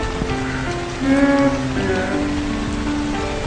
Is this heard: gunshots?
no